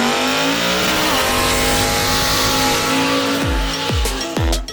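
A Mustang drag race car making a run, its engine roaring loud and close, then fast rising revs through several quick gear changes near the end.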